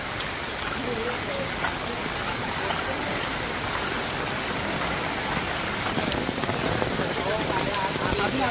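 Heavy rain pours down steadily at seaside Ganpatipule, a dense continuous hiss of drops hitting surfaces, loud and close, with no break throughout.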